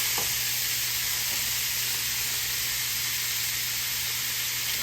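Meat browning in a pan fills the space with a constant, close, loud sizzle and hiss that holds evenly throughout, with no talking.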